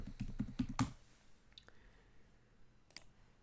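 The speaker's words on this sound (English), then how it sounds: "let me type the password" A quick burst of about six keystrokes on a computer keyboard entering a password to log into a Check Point Gaia admin page, followed by near silence and a couple of faint clicks.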